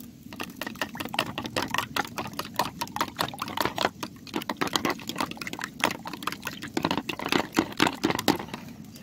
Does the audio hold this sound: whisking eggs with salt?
yes